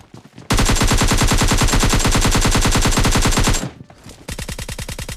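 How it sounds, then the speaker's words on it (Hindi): Loud, rapid automatic gunfire from a PUBG Mobile Lite match, a sustained burst of dense shots lasting about three seconds, then a brief lull and another quicker burst at close range; no speech. "कितने सारे फुटस्टेप्स आ रहे थे।"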